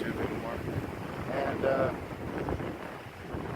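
Gusty wind from an Idaho windstorm buffets the microphone in a low, rushing roar that swells and eases, with a brief voice speaking faintly underneath.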